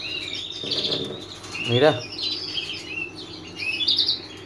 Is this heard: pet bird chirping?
yes